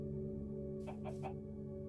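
Chickens in a video game give three quick clucks in a row, fairly soft, over a steady tonal background drone.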